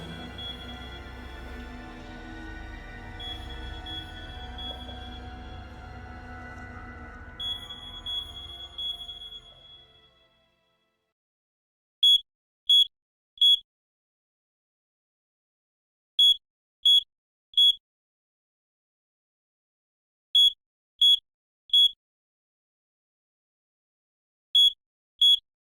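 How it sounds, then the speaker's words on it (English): Electronic alarm in the video game Dark Nights with Poe and Munro: after a stretch of low ambient rumble and soft tones, sharp high beeps sound in repeated groups of three, clear and isolated against silence. "It's beeping."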